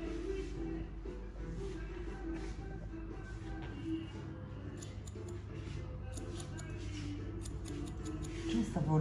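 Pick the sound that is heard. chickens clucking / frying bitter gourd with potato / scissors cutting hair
scissors cutting hair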